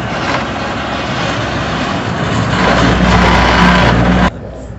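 Tractor-mounted multi-crop chopper cutting and shredding corn stalks for silage, a loud steady engine drone with machinery roar that swells slightly before cutting off abruptly near the end.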